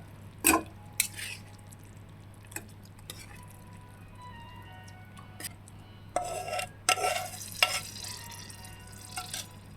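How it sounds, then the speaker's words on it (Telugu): Fried prawn curry is scooped from a pan into a bowl, with a few distinct scrapes and clinks of a spoon against metal spread across a quiet background hum. "ఇప్పుడు ఈ ప్యాన్ నుంచి మనం ఒక గిన్నెలోకి మొత్తం అంతా తీసుకుంటున్నాము."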